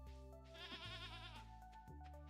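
A Stardew Valley goat gives one wavering, quavering bleat lasting about a second, set against soft, sustained farm game music at low volume.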